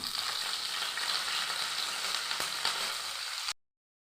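Curry leaves crackle and sizzle in hot coconut oil, a steady bright frying hiss with small pops, close and continuous for a few seconds before cutting off abruptly, no voices.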